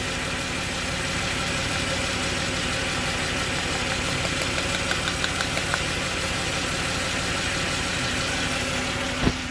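A Jaguar XJ40 XJ6 4.0 Sovereign engine idles steadily but roughly with a spark plug misfire, a low uneven rumble and occasional small knocking stumbles.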